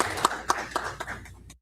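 Brief, light clapping at a town council meeting, with a handful of evenly spaced claps at a quick rhythm that soften and stop within about a second and a half.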